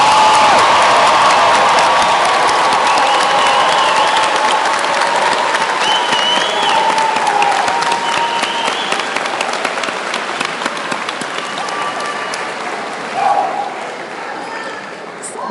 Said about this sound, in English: I think we should have one more loud round of recognition applause to all of our new